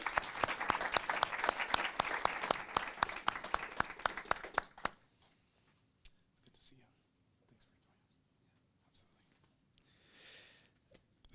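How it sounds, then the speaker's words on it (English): Big round of applause from the audience at a city council meeting, dense steady clapping for about five seconds before stopping abruptly, followed by near quiet with faint murmurs and scattered small sounds. "if we could give her a big round of applause"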